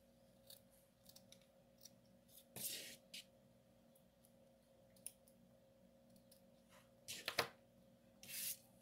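Scissors snip a V shape into the tip of a hair-bow ribbon, a few quiet, close crisp cuts spread across a calm room with no talking.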